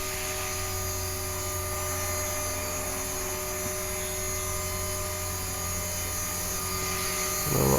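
An HK-450 RC helicopter hovers and drifts over a garden, its steady high-pitched rotor whine and motor hum running loud and continuous throughout, swelling slightly at the very end.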